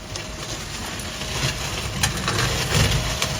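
Small engine running steadily again after a jammed metal motorbike stay was pulled out with mole grips, a continuous close idle with a low rumble and faint knocking.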